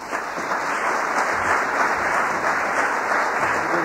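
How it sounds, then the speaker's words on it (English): Warm audience applause at a literary reading and talk, a dense, even wash of clapping from a seated crowd that holds steady throughout with no voices over it. "Ladies and gentlemen, a warm applause for Jay McInerney."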